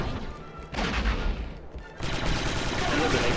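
A squad firing blasters in Star Wars Republic Commando, heard as dense, continuous gunfire with a brief lull before it resumes, loud and close over battle noise.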